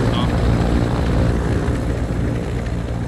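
Helicopter rotor thump and engine drone from a video game, a steady loud chopping hum with low pulsing that holds throughout.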